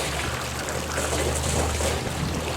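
Water pumped up onto a pool roof to fill it, a steady close rushing and trickling wash with a low hum underneath, continuous for the whole stretch with no voices.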